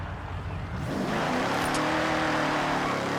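A 1979 Chevrolet Camaro engine in Forza Horizon 6 swells from a low idle into a loud, steady drone that holds for a few seconds, with a brief higher whine partway through.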